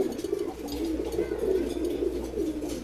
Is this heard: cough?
no